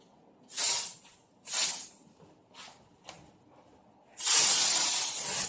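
Cleaning spray misted from a spray bottle, several short hissing bursts at irregular intervals followed by a longer, louder sustained spray, up close in a quiet room.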